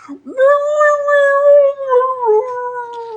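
A human voice imitates a creature's long, piteous howl of pain, drawn out and wavering with a falling pitch, loud and close, with a short break partway through.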